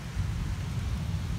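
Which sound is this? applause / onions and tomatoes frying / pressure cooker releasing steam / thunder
thunder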